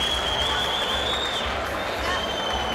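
A packed crowd applauds at a boxing fight at the Paramount, with steady sustained clapping and crowd noise.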